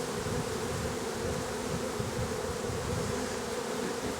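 Honeybees buzzing in a dense, continuous drone at a beehive with a heavy bee beard, close and steady with no pauses.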